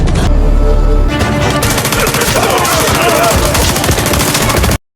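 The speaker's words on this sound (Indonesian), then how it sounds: "Sehingga mau tidak mau aksi baku tembak pun terjadi." Sustained action-film gunfight with dense, rapid bursts of automatic gunfire and overlapping shots, loud and continuous under a music bed, ending abruptly.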